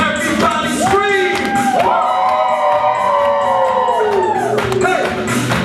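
Concert crowd screaming and cheering loudly and continuously, a dense roar of shouts and whoops close by, while a performer's voice calls out and holds long sung notes over the noise.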